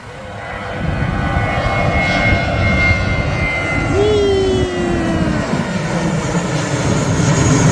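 An airplane takes off from the runway beside Mai Khao beach in Phuket, its engine roar swelling loud and close with a rising then falling whine, sustained throughout.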